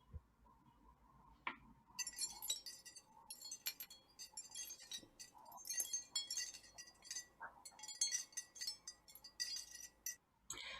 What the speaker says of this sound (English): here is just a sample of the glass sounds that I was working with